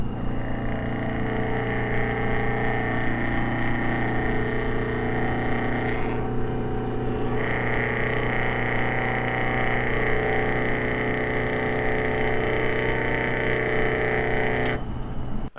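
A Detroit 4-53 single-turbo diesel with a Garrett T04E turbo runs loud and steady, a deep droning rumble under a sustained turbo whine that drops away briefly and then returns.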